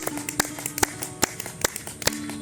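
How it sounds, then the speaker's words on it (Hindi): Several people clap their hands during a yoga session, sharp uneven claps landing roughly every half second, fairly close, over a faint low hum. "कम से कम 10 बार ताली बजाइए"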